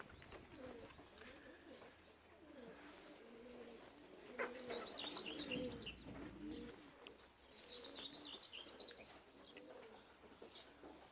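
Racing pigeons coming back to a loft after a 133 km race from Kalvarija, with soft cooing and scattered chirps from birds near and farther off, and brief bursts of wing activity.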